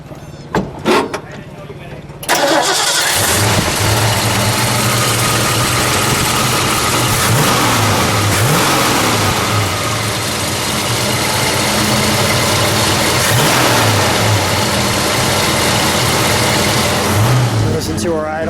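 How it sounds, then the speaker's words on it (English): A 1973 Ford Gran Torino Sport with a 351 V8 sits at a slightly high idle, a steady, loud, close rumble that holds for most of the stretch. It starts only after a brief quiet opening, and a person speaks over the engine note. "Listen to our idle. It's at a little high idle right now, but that's fine."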